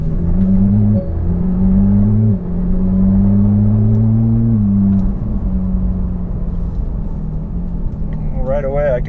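A Porsche 911 GT3 (991.1) cruises with its exhaust valves held open, giving a loud, low, steady drone with small pitch rises, heard from inside the car with a person talking briefly.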